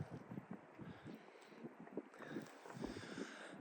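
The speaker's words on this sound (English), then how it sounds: "Very windy" Steady outdoor wind buffeting the microphone, a low rumbling roar with gusts rising and falling throughout, no voices.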